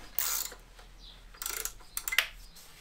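A 16 mm spanner tightens nuts on a refitted diesel particulate filter, giving faint, close metallic clicks and ratcheting scrapes in short irregular bursts.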